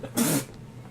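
A single sharp sneeze bursts out close to the microphone during a gaming session, loud and brief, rising from quiet background and fading quickly.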